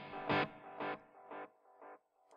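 Four evenly spaced guitar-like bursts, each fading into a softer repeating tail, giving an echoing delay effect with no talking.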